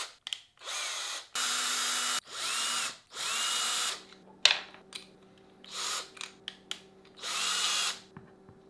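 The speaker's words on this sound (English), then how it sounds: "Hopefully this drill's charged up enough. Do a little tap hole first." A cordless drill boring a small tap hole runs in several short, loud bursts of whirring with brief pauses between them, followed by a few quieter clicks and a final burst.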